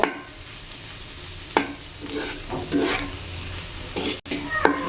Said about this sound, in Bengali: আমি আর 1 মিনিটের মতো ভেজে নেব